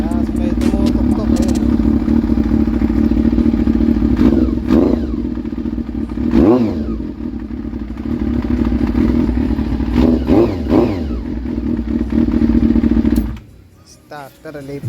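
A Honda CB-1 motorcycle with a faulty starter relay, its engine running with a loud steady idle, a few clattering knocks and revs through the middle, then cutting off abruptly near the end while someone talks over it.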